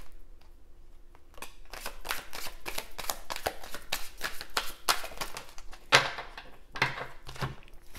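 A deck of oracle cards is shuffled and drawn by hand: quick papery riffles and slaps in steady bursts, close and fairly quiet, with a few sharper snaps as cards are pulled and laid down.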